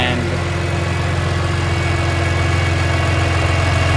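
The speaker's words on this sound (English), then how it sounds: "The exhaust is popping a little now, and it never used to before." A BMW E46 M3 with an upgraded intake idles steadily and close by, a low, even rumble with faint exhaust popping mixed in throughout.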